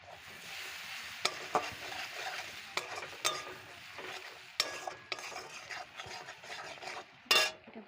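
Turmeric and dry red chilli powder with salt fry in a pan for a gorai fish and bottle gourd curry, giving a steady soft sizzle broken by sharp clicks and scrapes of a stirring spoon. No talking.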